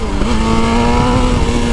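A BMW S1000RR motorcycle engine holds a steady, loud high rev, a continuous buzzing drone throughout with no voices.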